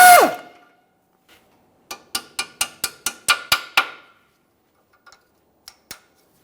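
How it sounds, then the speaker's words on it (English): A hammer taps a pinch bolt out of the steering knuckle of a 2008-2017 Mitsubishi Lancer during a front lower control arm job: a brief clank, then about eight evenly spaced sharp metallic taps, followed by a few scattered lighter ones. "We'll get this so it spins and then we'll tap it out of place."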